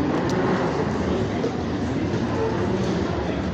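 Steady rumble of an airport train running at Denver airport, a dense low roar and rolling hum that holds at an even loudness for the whole stretch.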